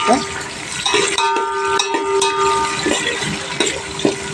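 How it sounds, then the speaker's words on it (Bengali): Four chopped onions fry in a pan for mutton biryani, crackling and hissing while a spoon clinks and scrapes against the metal in irregular strokes, close and loud. "চারটে পেঁয়াজ নিয়েছি আমি গোটা তো এবার ভাজি করবো"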